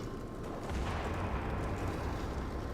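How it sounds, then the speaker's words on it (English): Gunfire and an explosion in the Mass Effect 2 video game form a dense, rumbling barrage of low booms and crackling shots that fill the whole stretch at a steady, moderately loud level, with no talking. "There was some gunfire and an explosion"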